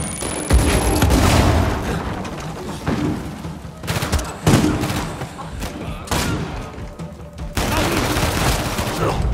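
Explosions and bursts of gunfire from the video game Uncharted 4 come in heavy, loud volleys with thumping blasts, broken by brief lulls. Someone talks over the noise.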